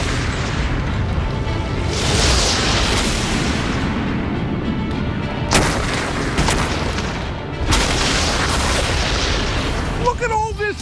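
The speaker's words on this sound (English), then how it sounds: "I'm going to blast holes in that boat with this cannon." A cannon firing repeated blasts into a boat, loud booming bursts with crashing debris and broadband roar across the span, heavy impacts around two, six and eight seconds, ending with brief squeaky tonal sounds.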